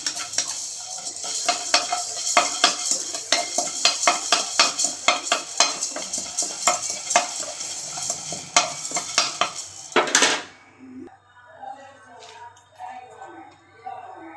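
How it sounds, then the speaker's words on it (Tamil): Spices roasting in a pan over a low flame for village-style country chicken curry, with a spoon scraping and clattering in quick, steady strokes for about ten seconds before it stops, leaving a quieter sizzle behind. "இப்போ நல்லா வறுத்துக்கலாம்."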